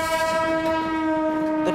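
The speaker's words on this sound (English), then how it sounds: "The trains, they roll in at a speed of about 40 to 50 kilometers an hour." A train's horn blares in a loud, steady sustained tone as it rolls into a busy Mumbai railway terminal, with a faint rumble beneath.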